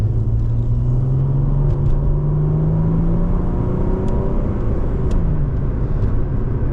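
A 2005 Chrysler Crossfire SRT-6 engine pulls hard under acceleration, a loud, steady close-up rumble whose pitch climbs smoothly as the revs rise, with no talking over it.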